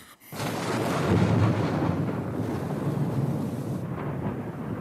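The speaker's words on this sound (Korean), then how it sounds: "이 상암동에는 천둥번개가 치네요" Thunder rolls over Sangam-dong in Seoul, a single loud, deep rumble that starts abruptly after a brief silence and slowly fades over several seconds.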